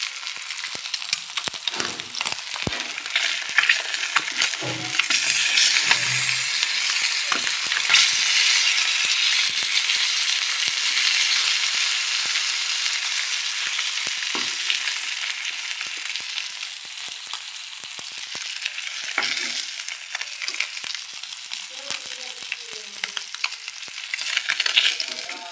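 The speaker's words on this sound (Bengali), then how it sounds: "মানে লাল লাল করে ভেজে নিলাম মাছগুলো" Fish frying in oil in a pan for a jhinge-potol fish curry, a steady loud sizzle with crackling bursts and occasional utensil scrapes throughout, no voices.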